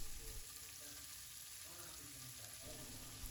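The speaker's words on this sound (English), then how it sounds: "I'm gonna add 4 ounces of turkey sausage and fry it until it becomes nice and brown" Turkey sausage fries in a pan with a soft, steady sizzle that stays even for a few seconds, faint and close, with no voices over it.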